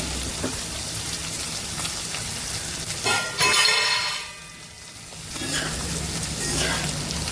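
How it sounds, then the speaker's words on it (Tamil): Chopped tomatoes sautéing in a pan, a steady crackling sizzle close up with a brief burst of stirring noise midway. "இப்போ நான் கட் பண்ணி வச்சு தக்காளி போட்டுருவேங்க. வதக்கிக்கிறேன்."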